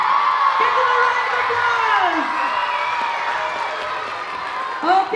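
Primary school audience at an interhouse music competition cheering and whooping in a steady, loud crowd roar, with a voice calling out over it near the end.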